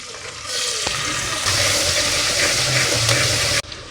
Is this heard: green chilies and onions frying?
yes